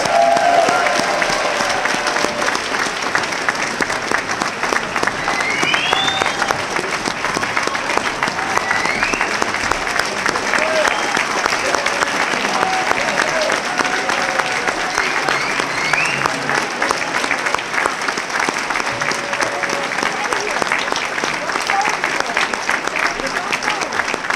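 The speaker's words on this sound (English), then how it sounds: "How about another round of applause?" Sustained applause from a dinner audience honoring alumni at an anniversary celebration, steady and dense throughout with a murmur of crowd voices beneath.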